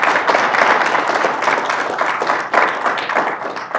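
A room full of attendees at a global health panel event gives a round of applause, a loud dense burst of clapping that swells briefly near the end.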